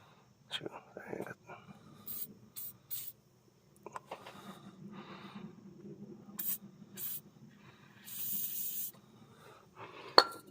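Short hissing bursts of an aerosol can spraying penetrating oil during a brake fluid flush on a Mercedes C140, with several separate sprays between quiet stretches and soft nearby talk.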